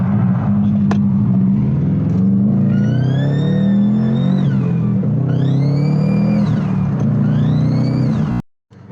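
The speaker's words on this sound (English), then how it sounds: "the car at least sounds funny when I drive it" A Subaru STI engine with an ETS top-mount intercooler revs repeatedly up and down in pitch with a raspy exhaust note, loud and close, rising and falling in several pulls before cutting out.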